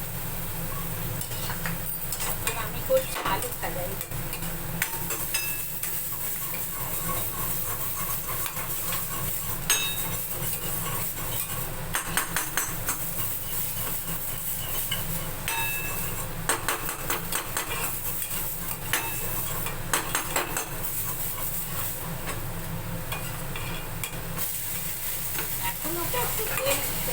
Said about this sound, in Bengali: আমি করছি আলু ভাজা।